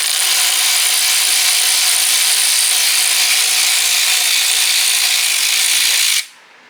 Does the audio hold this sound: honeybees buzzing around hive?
no